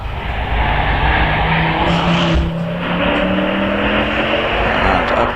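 An Audi RS6 rally car nearing the finish of a hillclimb run at Prescott, its engine roaring loud and close as it passes, with a rising and falling tone and a brief burst of tyre noise.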